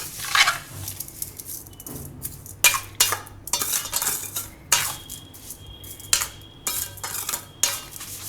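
Raw mango pieces being stirred with sugar in a metal vessel for mango candy: repeated clinking and scraping strokes of a spoon against the pot, irregular and fairly close, with no talk.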